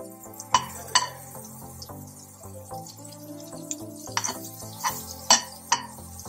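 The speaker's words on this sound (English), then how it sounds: "In a heated pan, add some butter" Butter melting in a heated pan for pancakes gives a soft, low sizzle, broken by several sharp clinks and scrapes of a utensil against the pan.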